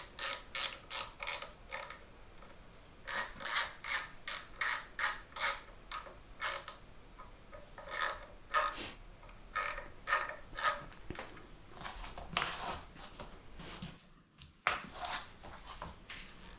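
A screw being driven into a Telecaster guitar part during assembly, a rapid series of ratcheting creaks and clicks in bursts, close and alone, ending in a short pause and a final clunk.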